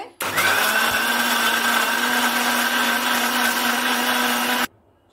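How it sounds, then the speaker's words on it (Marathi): A mixer grinder blends grape juice with lemon juice and cold water, kicking on abruptly with a loud, steady whirring drone and cutting off sharply after about four seconds. "मिक्सरला फिरवून घेते. मिक्सर ऑन करते."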